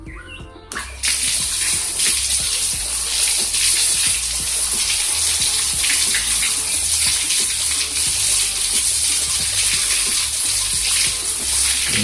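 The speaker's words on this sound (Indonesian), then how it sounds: "Ini pertama kita siram dulu di air keran." Tap water pours steadily over a waterproof IP68 smartphone during a water-resistance test, a loud, continuous splashing hiss that starts abruptly and runs unbroken to the end.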